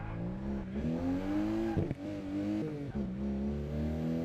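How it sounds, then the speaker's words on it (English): A car engine revs and shifts pitch under steady load while drifting in Assetto Corsa Evo, driven with a Logitech G923 wheel, with brief dips as the throttle lifts. "I just did a really tiny drift"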